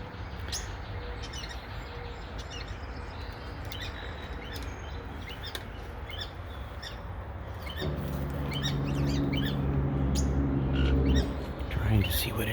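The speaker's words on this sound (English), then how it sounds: "Looks like a cowbird. Actually, it looks like a fledgling." A cowbird fledgling calls from a tree outdoors, repeated thin high chirps scattered over steady background noise, with a low rumble joining partway through.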